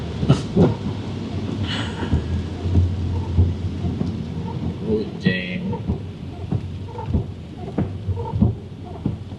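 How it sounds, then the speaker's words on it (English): Rain and thunder on a grey, wet, cold winter day by a UK waterfront, steady rainfall with low rumbling thunder filling the background and a few sharp knocks and clatters on top. "Grey, wet, raining, cold at the same time."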